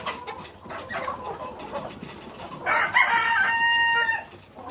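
In a poultry shed housing around 140 hens, chickens cluck and chatter nearby, then a rooster crows loudly and close, a drawn-out call that dominates the last seconds.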